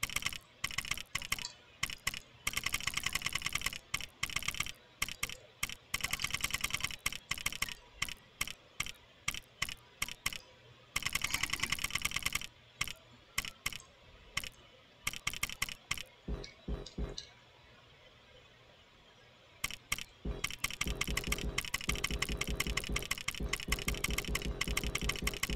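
Rapid bursts of keystrokes on a computer keyboard while entering a cheat code for Lego Marvel Superheroes, clicking in quick irregular runs with brief pauses and a quieter stretch midway, close and dry with no talking.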